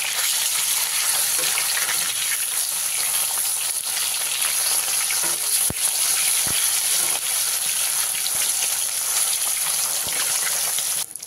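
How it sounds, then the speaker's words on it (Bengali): Pieces of rohu fish frying in hot oil in a pan, a loud, continuous bright sizzle and crackle with occasional sharp pops, unbroken from start to finish. "মাছগুলোকে উল্টে পাল্টে খুব ভালো করে লাল করে আমি ভেজে নিয়েছি"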